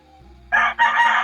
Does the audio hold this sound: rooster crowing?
yes